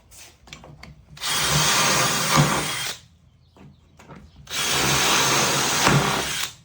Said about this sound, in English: drill these 2 holes